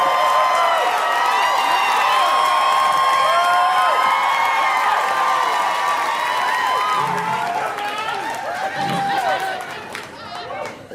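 A comedy club audience greets stand-up comedian Josh Johnson with sustained applause, cheers and whoops, loud and dense at first, then thinning toward the end with scattered claps and chatter.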